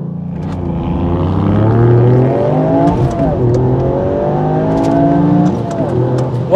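A modified Toyota GR Yaris accelerating hard from standstill with traction control off, its engine loud and close, pitch climbing steadily through the gears with brief dips at each shift, a continuous roar throughout.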